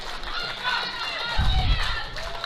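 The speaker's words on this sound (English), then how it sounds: "The crowd is clapping, getting behind her." Crowd at a powerlifting world masters championship applauding and cheering for a lifter, a dense steady roar of claps and shouts with a louder low swell midway, commentary voices over it.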